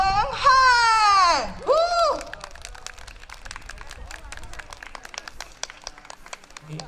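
At an outdoor picnic-day festival stage in Changhua, an announcer's voice gives way to a crowd clapping to welcome a young Malaysian singer: scattered, crisp claps run for several seconds at moderate level.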